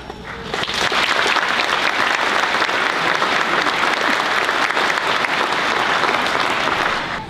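Sustained, loud applause from a large audience at a Marine Corps University academic awards ceremony as a brigadier general is introduced; dense, even clapping that swells quickly and holds for several seconds before tapering.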